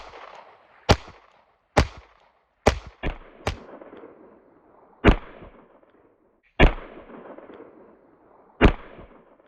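Pistol shots fired while moving at a practice range, eight sharp, loud reports spaced irregularly, some in quick pairs, each with a short echoing tail and quiet gaps between.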